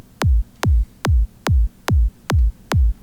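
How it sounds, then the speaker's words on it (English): A tight electronic kick drum from a remix, seven punchy hits in an even steady rhythm, each a sharp click dropping into a short deep boom, loud and alone. "It's a very nice, very tight kick"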